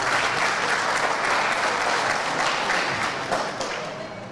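A hall full of guests at an iftar gathering claps together with the municipal council members, producing a dense, steady wash of applause that tapers slightly at the end.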